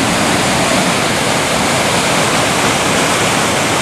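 Flooded Cong Burn river pouring over a damaged, collapsed waterfall in woodland, a loud, steady, broadband roar of rushing water close by with no pauses.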